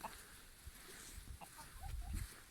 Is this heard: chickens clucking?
yes